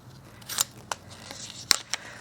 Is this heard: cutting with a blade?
yes